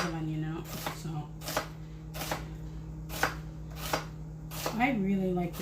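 A very sharp kitchen knife chops an onion on a board for nacho toppings, with steady, evenly spaced crisp strokes about every half second, while a person talks over it.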